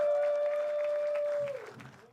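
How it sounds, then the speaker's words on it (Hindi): Loud audience applause and cheering for comedian Shivam Verma at a comedy talent show, a steady dense roar of clapping with a sustained whistle-like tone held through most of it before fading out. "जोरदार तालियां यार शिवम वर्मा के लिए मैन"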